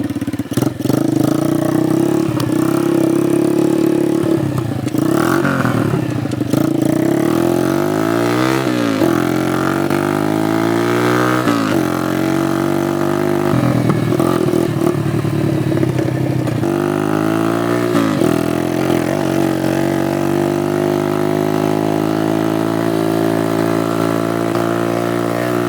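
Honda CT70 minibike fitted with a 90cc Lifan engine runs continuously for about 26 seconds, loud and close, rising and falling through several revs and accelerations with gear-like pitch sweeps between steadier stretches.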